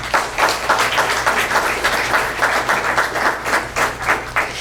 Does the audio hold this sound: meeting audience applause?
yes